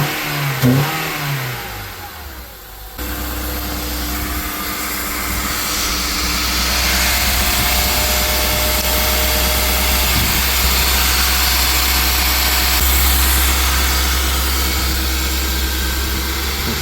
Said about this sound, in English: You can hear the car start to idle rough and rev up and drop back down.